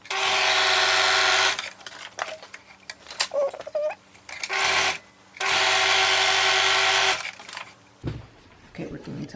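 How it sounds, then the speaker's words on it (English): A sewing machine stitches a homemade fabric face mask with a generous quarter-inch seam, running in two loud, steady bursts separated by a pause with handling noises and brief talk. "And I'm going to sew here and here. I'm going to use a generous 1/4 inch seam here."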